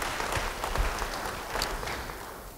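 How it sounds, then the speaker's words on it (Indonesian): A church congregation claps together in a steady, dense wash of applause, held at an even level for the whole stretch with no voices standing out. "Yang mau beri tepuk tangan bagi Tuhan"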